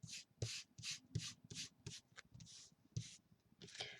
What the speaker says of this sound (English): And rub it with your hand to get everything stuck down.